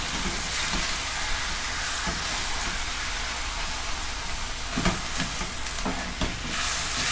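Beef for gyudon sizzles steadily in a pan, a constant close frying hiss broken by a few scraping spoon strokes as it is stirred, with no talking.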